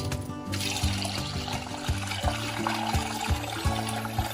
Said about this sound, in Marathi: त्याच्यामध्ये त्याच्या गरजेनुसार पाणी घालून घेऊया.